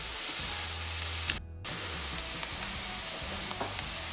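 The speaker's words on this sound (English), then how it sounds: "I'm going to go ahead and saute down these vegetables" Vegetables sautéing in a non-stick pan for chicken cacciatore, a steady close sizzle with a brief dropout in the middle before the hiss resumes, along with light stirring scrapes.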